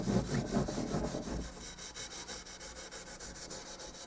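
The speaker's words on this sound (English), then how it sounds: "Now we got some 4/0 steel wool. Working on this with." Fine 4/0 steel wool rubs along a banjo fingerboard during refretting, a close, steady scrubbing with repeated back-and-forth strokes that continue evenly throughout without talk.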